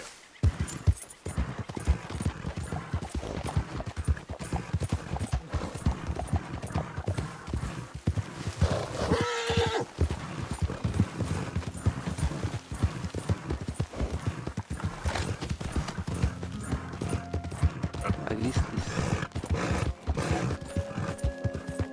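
Horse galloping across terrain in Red Dead Redemption 2, with steady rhythmic hoofbeats that continue for the whole stretch, close and fairly loud, and a brief whinny-like cry partway through.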